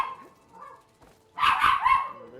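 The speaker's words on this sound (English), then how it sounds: "And a very small dog." A very small dog in Horizon Forbidden West lets out a quick burst of high, yappy barks, loud and close after a quieter lead-in, with no one talking.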